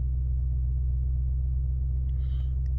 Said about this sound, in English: now I know why it's so loud. It's because of the back. The trunk is open.